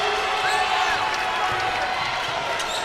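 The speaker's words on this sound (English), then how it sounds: "Crowd once again gets a little loud here" Crowd noise at a college women's basketball game between UConn and Tulane in a field house, a loud, steady roar with scattered shoe squeaks and ball sounds carrying on throughout, no clear talk over it.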